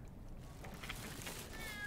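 A cat meows faintly in a Squid Game episode scene, a couple of soft, thin calls over quiet background noise.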